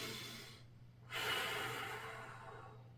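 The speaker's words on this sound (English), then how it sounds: "Nice deep breath here." A person lying on a mat during a leg and glute exercise takes a deep breath, a soft inhale followed by a longer, breathy exhale, close and quiet.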